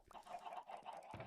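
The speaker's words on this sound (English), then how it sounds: "of course we've got the chickens. It's hard to hear over them." Chickens cluck inside a Minecraft XP farm: a faint, continuous run of repeated clucks with no talking over them.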